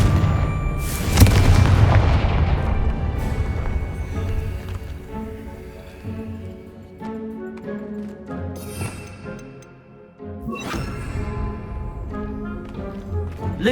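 Confringo blasting spell explosions from the video game Hogwarts Legacy: a loud, close blast near the start, then further booming bursts over a busy game soundscape.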